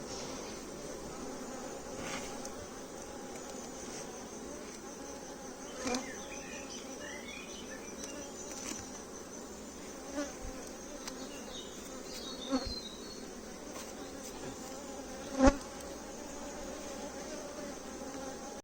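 Low, continuous buzzing of many bees nearby, with a few louder passes close by and occasional soft knocks.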